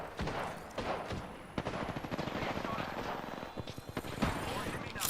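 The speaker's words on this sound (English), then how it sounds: "They're shooting at me" Rapid gunfire in the New World video game rattles in dense bursts and sharp single shots for about five seconds, loud and close, with other game effects layered underneath.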